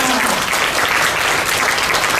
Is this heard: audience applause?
yes